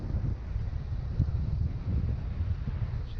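Wind buffeting a microphone on a fishing outing with a Savage Gear glidebait rod, a continuous low rumbling roar with uneven gusty swells, no voices.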